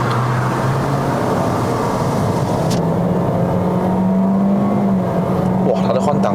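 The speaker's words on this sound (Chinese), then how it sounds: "我再试看它的降档，3000转降，哇哦，速度快到，哇哦，踩到完了 ，kick down 也按下去了。" Toyota Corolla Sport 1.2T turbo on a test drive in Malaysia kicks down and accelerates, a steady cabin drone of the engine climbing in pitch with road noise, while someone talks throughout.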